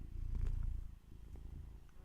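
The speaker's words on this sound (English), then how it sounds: "There's a cat on my lap." A cat lying on a lap purrs in a soft, low, rumbling drone that swells and fades with its breathing, close but quiet, with no talk.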